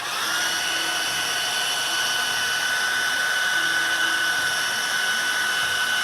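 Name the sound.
hair dryer blow drying hair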